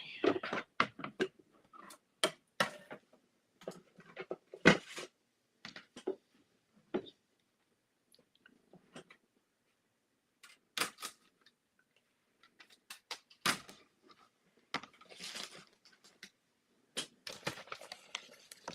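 Thin cut die-cutting machine working a greeting card through its plates, giving close, quiet, irregular clicks and ticking bursts separated by pauses, with no talking.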